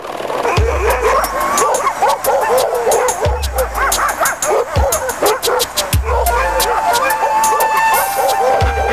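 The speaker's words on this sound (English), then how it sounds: "200 sled dogs make up the camp." Many Alaskan Husky sled dogs bark, yip and whimper together in a loud, constant chorus at a camp of about 200 dogs, with deep thumps recurring every second or so.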